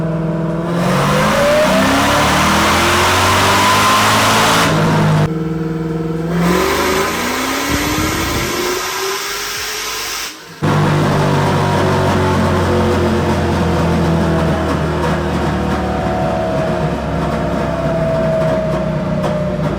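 A car engine on a dyno roars loudly through a full pull, its pitch climbing steadily, then drops away abruptly before winding up again in a second long, rising rev run.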